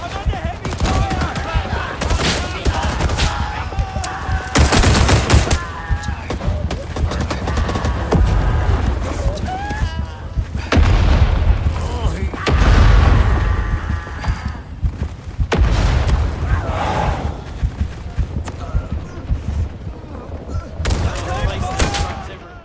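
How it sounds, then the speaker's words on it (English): Heavy gunfire in the video game Rising Storm, dense overlapping rifle and machine-gun shots with booming explosions, loud and chaotic throughout, with voices shouting over the battle. "I'm under heavy fire!"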